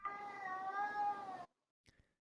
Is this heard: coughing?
no